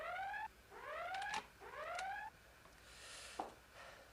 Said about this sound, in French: Pouvez-vous faire arrêter le signal d'alarme, lieutenant?